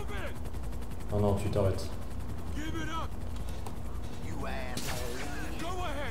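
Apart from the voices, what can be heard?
gunshot hitting the player's police car in GTA 5 (video game)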